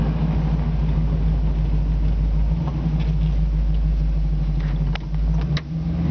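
A 1967 Ford Mustang with its original 289 V8, rebuilt for high performance, idles with a steady, deep, even rumble that stays loud and close throughout, with no talking over it.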